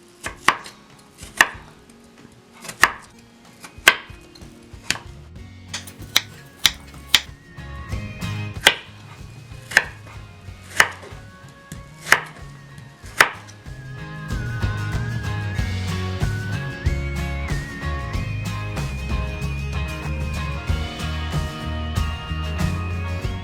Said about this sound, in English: Now cut into thin strips, almost like potato matchsticks.